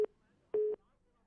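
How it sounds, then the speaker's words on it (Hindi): A telephone busy tone follows a dropped call during a live news broadcast, with two short electronic beeps, the first clipped and the second a clear steady pulse, then silence. "लगता है फोन डिस्कनेक्ट हो गया।"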